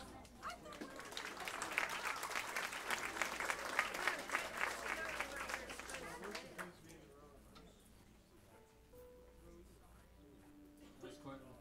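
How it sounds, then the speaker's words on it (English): A theater audience at Sellersville Theater in Pennsylvania claps and cheers as the band is welcomed onstage, a dense wash of applause that fades after about seven seconds, leaving quieter stage sounds and murmuring. "There's quite an applause for having not heard this yet"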